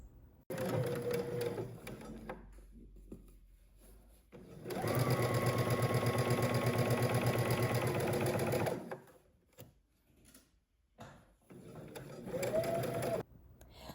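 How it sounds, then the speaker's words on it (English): A sewing machine runs a seam on a summer top with 5/8-inch allowance: a short burst of rapid stitching, then a long steady run of several seconds, and a final brief spurt, close up with quiet gaps between. "Now we're going to go ahead and stitch across using 5/8 of an inch seam allowance."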